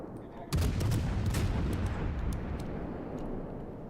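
Warship guns in World of Warships open fire on a destroyer, a sudden loud salvo followed by a rolling rumble and crackle that slowly fades.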